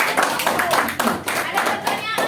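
Students applauding in a high school classroom, a steady burst of many hands clapping close by with a few voices mixed in.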